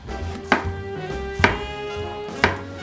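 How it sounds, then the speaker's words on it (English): A knife slices peeled garlic thinly for gourmet ramen, landing three sharp chops on a cutting board about a second apart, each one crisp and close with a brief ring, and no talking. "we're just gonna do thin slices with the garlic"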